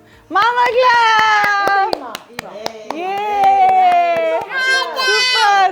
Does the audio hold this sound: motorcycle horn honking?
no